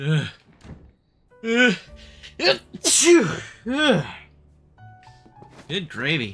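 A single sharp sneeze bursts out among animated voices in a game scene, with lively talking before and after it.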